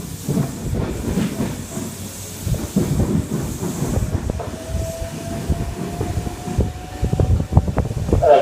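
Steady rumble and rattle of a Sydney train crossing Meadowbank Bridge, with rhythmic clanks and a faint sustained tone, heard from a window with wind noise.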